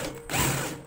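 A drill bores holes in plastic Bluetooth speaker parts, giving a short close whirring grind that rises briefly and holds for under a second.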